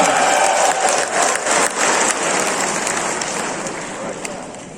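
A crowd at a Perikatan Nasional political rally in Sabah claps steadily, a dense, loud wash of applause and crowd noise that holds for several seconds before easing slightly.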